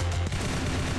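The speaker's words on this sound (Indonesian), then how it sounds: "Gue nembak orang itu." Gunfire in the zombie shooter game Zombie Hunter: Survival, a dense burst of rapid shots over a continuous low rumble, loud and up close.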